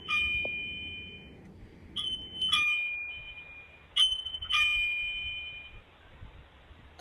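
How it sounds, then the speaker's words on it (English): Smart doorbell chime sounding in a child's upstairs bedroom, a series of bright electronic ding tones repeating several times in short clusters, fairly clear over faint room noise. "the doorbell in my kids' room upstairs is going off"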